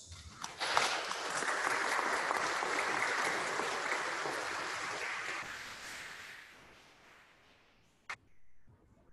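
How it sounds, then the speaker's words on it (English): A church congregation at a first communion Mass applauds the children, a dense, steady clapping that holds for several seconds, then thins and fades out, with one sharp knock near the end. "Let us give these children a big applause."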